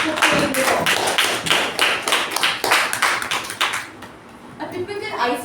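An audience at a speaking-club meeting gives a round of applause, with loud, close, irregular claps that keep going and then thin out near the end.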